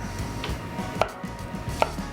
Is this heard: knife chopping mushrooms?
yes